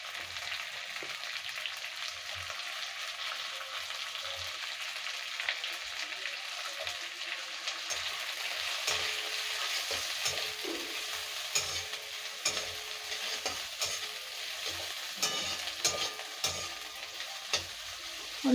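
Onions with ginger paste fry in oil for a dinner dish, a soft, continuous sizzle broken by scraping stirs that grow more frequent and sharper toward the end, with no talk.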